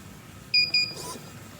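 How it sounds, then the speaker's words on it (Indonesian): Buzzer on a smart garage gate sounds twice after a card tap as the servo opens: two short, sharp, high beeps in quick succession, fairly loud over a quiet hum. "Maka servo akan terbuka dengan ditandai buzzer berbunyi 2 kali"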